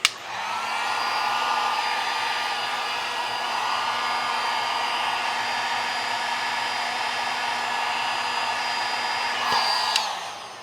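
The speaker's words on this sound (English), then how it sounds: "we'll give it one more try with the heat gun to see if we can trigger it" Heat gun blowing hot air onto a 12V LiFePO4 battery, a constant loud fan whir and airflow hiss with a steady whine, switched on at the start and clicking off near the end.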